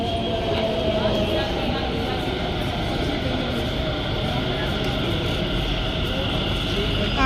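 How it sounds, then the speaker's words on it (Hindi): A metro train arrives at a crowded station, rumbling steadily throughout, a loud continuous mechanical roar with faint high squeals, while people talk nearby in Hindi over the noise. "आ गई हमारी मेट्रो, आ गई।"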